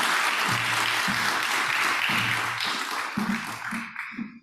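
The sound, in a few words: audience applause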